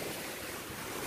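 Ocean waves wash in a steady, dense hiss of surf with wind, a continuous roar with no pauses and no voices.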